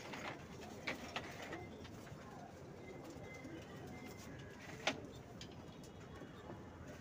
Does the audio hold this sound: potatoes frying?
no